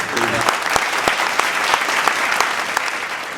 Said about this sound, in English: I'm so thankful that people applaud her